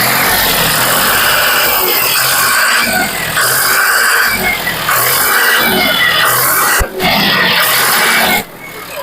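A used 2019–20 tractor with about 3,500 hours runs at a second-hand tractor showroom in Cooch Behar, West Bengal, with a loud, steady engine chugging close by and a few brief knocks and dips near the end.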